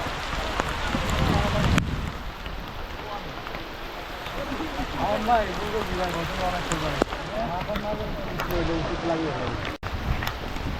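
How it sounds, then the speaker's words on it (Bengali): Heavy rain falls on a boat during a monsoon trek in Bilaichhari, a steady broadband patter and hiss mixed with wind buffeting the microphone and scattered knocks nearby. "নৌকাতে ওঠার সাথে সাথে ঝুম বৃষ্টি"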